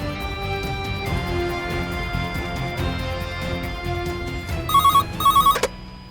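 A telephone rings twice in short electronic bursts near the end, following a stretch of dense, steady background sound.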